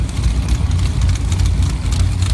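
A turbocharged Chevy Blazer sand drag racer sits idling at a sand drag strip, its heavy engine rumbling low and steady at close range with no voices over it.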